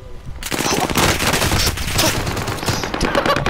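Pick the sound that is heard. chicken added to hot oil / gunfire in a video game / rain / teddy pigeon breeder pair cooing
gunfire in a video game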